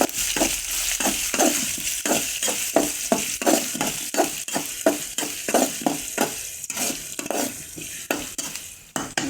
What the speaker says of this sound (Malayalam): ഇനി ഇതിലോട്ട് ഞാൻ പച്ചമുളക് ഉള്ളി അരിഞ്ഞ് വെച്ചത് ചേർത്താണ് ചേർത്ത് നല്ലതുപോലെ തന്നെ ഇളക്കാം